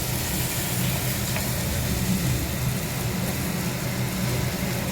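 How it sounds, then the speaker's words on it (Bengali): Masala gravy frying in a pan, a dense continuous sizzle that stays even and close throughout with no talk. "আর এখানে পুরো মশলাটা, গ্রেভিটা একদম ভালো করে লাল লাল করে ভেজে নিচ্ছে"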